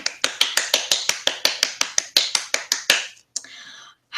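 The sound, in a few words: applause by finger snapping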